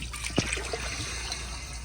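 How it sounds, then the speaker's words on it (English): A 1998 Sterling Windham toilet with a small tank flushes, giving a steady rush of water with one sharp knock near the start, heard close and alone. "So here is another flush."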